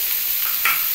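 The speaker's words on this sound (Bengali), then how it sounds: "এর মধ্যে আমি একটু মশলাগুলো দিয়ে দিচ্ছি, এগুলো একটু ভাজা হোক।" Spices fry in a pan with a constant hissing sizzle, briefly brightened by a stir partway through.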